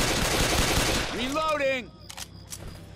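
Dense automatic gunfire from zombie-shooting in the video game Left 4 Dead 2, loud and continuous for over a second, then a voice shouts briefly while scattered softer clicks follow.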